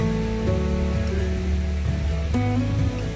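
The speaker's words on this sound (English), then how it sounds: "we're right next to the ocean now" Continuous ocean surf rolling onto the beach at São Miguel do Gostoso, a steady broadband wash close by, mixed with low rumbling tones from nearby activity and no talking.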